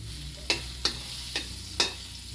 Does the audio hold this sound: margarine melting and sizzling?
yes